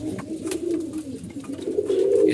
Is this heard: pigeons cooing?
yes